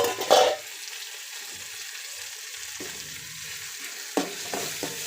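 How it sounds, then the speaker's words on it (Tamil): Onion and tomato sizzle quietly in a pan while a spoon stirs and scrapes, with a few sharper clinks at the start and end. "அதோட இந்த தக்காளியும் போட்டு நல்லா வதக்கிக்குங்க"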